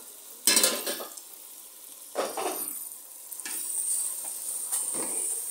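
Chicken liver browning in a pan with tomato being added, heard as four separate bursts of stirring and scraping with quieter sizzle in between, close by.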